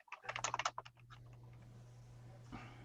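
Quick bursts of typing on a computer keyboard, a rapid cluster of close, crisp key clicks that stops after about a second, leaving a quiet low hum and one faint later knock.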